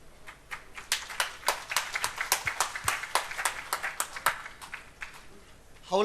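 Scattered applause from an audience at a state wellness congress in Palakkad, greeting a volunteer: distinct individual claps in a loose, uneven rhythm, moderately close, thinning out after a few seconds.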